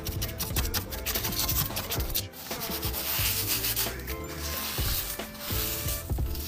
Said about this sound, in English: As you can hear, it's turned very crispy and dry.